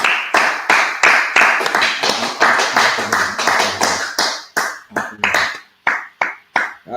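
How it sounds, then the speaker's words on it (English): An audience claps in fast, loud bursts with a steady rhythm, the claps close and dense, then breaking into separate spaced rounds near the end. "All right, clap it up, clap it up."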